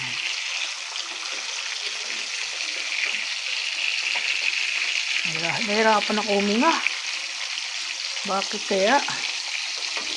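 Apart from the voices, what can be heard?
food frying in a pan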